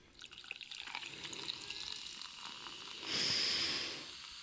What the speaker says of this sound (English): Here comes the pour.